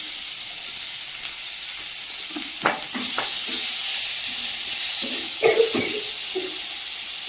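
Chopped tomato with salt sizzles in a hot pan for a fish curry, a steady loud hiss broken by several scraping stirs of a utensil.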